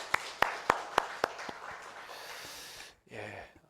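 A church congregation claps in unison, about six sharp rhythmic claps that then dissolve into a looser scatter of applause and fade, fairly faint and distant in a reverberant room.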